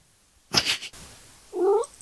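A cat lets out a short, close meow after a brief rustling noise, with quiet in between.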